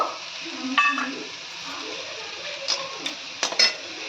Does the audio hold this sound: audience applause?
no